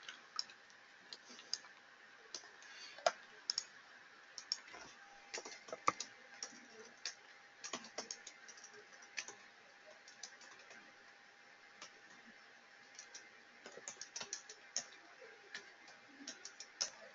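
Fingers type on a computer keyboard in quiet bursts of light clicks, with short pauses between runs of keystrokes.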